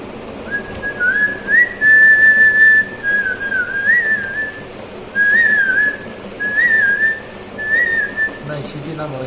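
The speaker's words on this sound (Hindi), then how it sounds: "नहीं सीटी ना मोड़ यार" A person whistles a repeated short tune in loud, clear phrases separated by brief breaths, over a faint background hum.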